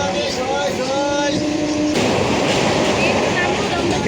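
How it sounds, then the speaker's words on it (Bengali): A train runs along the rails with a constant close rumble and rattle heard from inside the carriage, while a melodic electronic tone plays over the first half. "আমরা এখন ট্রেনে যাচ্ছি।"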